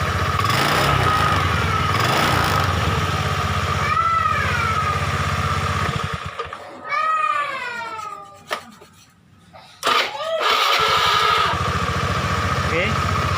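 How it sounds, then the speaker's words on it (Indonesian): A carbureted Honda Beat scooter engine running after the starter button is pressed, a steady idle drone that drops away briefly and then returns, with high whining tones in the gap. "Ini mesinnya sudah hidup."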